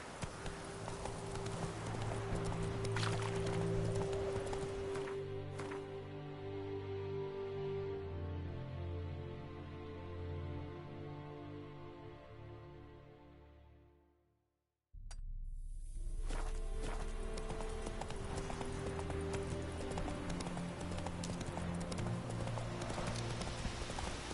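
Horse hooves clip-clopping at a steady walking rhythm in The Witcher 3, close and fairly loud over a low ambient game backdrop, fading out briefly midway before resuming.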